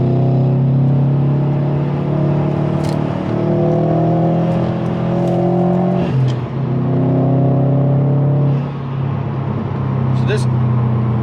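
A tuned 2019 Subaru WRX STI engine pulls hard and loud through a turn, its pitch rising in long climbs broken by brief shifts, with wind and road noise throughout.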